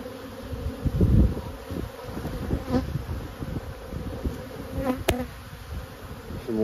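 Honeybees buzz during a spring beehive inspection, a faint, steady swarm hum close by with occasional soft handling knocks and no talking.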